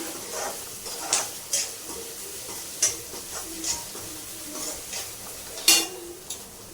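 Vegetables lightly stir-fried for noodles in a home kitchen, with a soft steady sizzle broken by sharp metallic clinks and scrapes of a spatula against the pan at irregular intervals.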